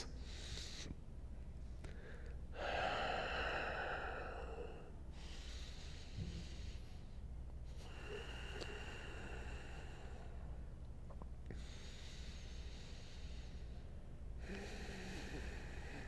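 Three slow, audible breaths taken during an overhead-arm yoga pose, each a soft rushing inhale and exhale separated by brief pauses, heard close and alone against a low steady background hum.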